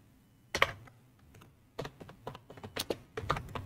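Keys tapped on a computer keyboard while a name is entered into an admission form in PageMaker, with a single click, a pause, then quick irregular bursts of close, quiet keystrokes.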